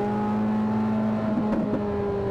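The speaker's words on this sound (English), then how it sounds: "See all those pops and crackles that are coming from the exhaust." A 2023 Chevrolet Corvette Z06 convertible with mid-engine accelerating from about 45 mph, a steady droning engine tone heard from inside, with a couple of faint crackling pops from the exhaust near the end.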